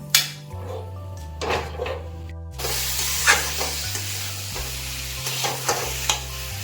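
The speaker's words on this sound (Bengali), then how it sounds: "আলু উলকপি আমি ভেজে নিচ্ছি" Potatoes and cauliflower frying in a pan for a Bengali home-style curry, a steady close sizzle with repeated stirring and scraping, occasional louder clinks of a spatula against the pan, no talking.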